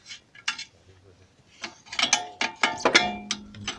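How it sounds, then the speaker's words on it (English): A 19 spanner works bolts loose while fitting a constant velocity joint, giving irregular metallic clicks, clanks and scrapes, close and sporadic, with faint background sound. "I'm using inch 19 size of the spanner to remove these bolts"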